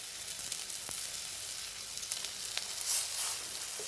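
Flat Malabar spinach leaf fritters shallow-frying in a little hot white oil make a constant bright sizzle and crackle up close, with a few faint spatters and a brief swell near the end.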